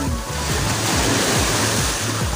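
Strong ocean waves roll and crash at Puka Beach on Boracay, a loud continuous roar of surf close by with wind buffeting the microphone.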